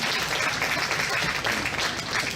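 A crowd at a county fair livestock show claps in steady, dense applause that fills the whole moment, loud and close with no pauses.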